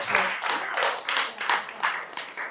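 An audience claps after a devotional Sai Ram song, a steady, fairly rhythmic burst of many hands at moderate distance filling the whole stretch.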